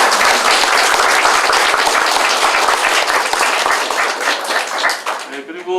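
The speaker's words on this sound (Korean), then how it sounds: "박수 좀 받아주시기" Dense applause from a large audience at a political campaign rally in Pocheon, filling the room steadily and loudly before thinning out near the end.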